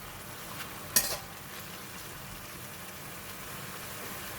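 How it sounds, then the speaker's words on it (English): Shiitake mushrooms fry and get stirred in a thick gravy sauce for lor mee: a steady, moderate sizzle with a brief utensil clatter early on. "So I'm adding in the shiitake mushroom."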